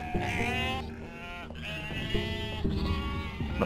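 Sheep bleating in the video game UnMetal, several wavering, drawn-out bleats that overlap one another, set over a steady game soundtrack with no talk.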